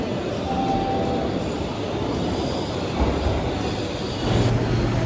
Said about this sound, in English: Dolazi metro.